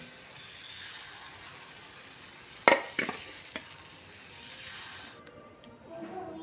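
Rice flour kuzhi paniyaram batter frying in a pan gives a steady close sizzle with a few sharp metallic clinks midway, then the hiss cuts off abruptly near the end, with no talking.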